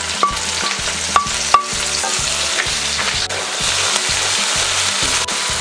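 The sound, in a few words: onion sautéing with ginger and garlic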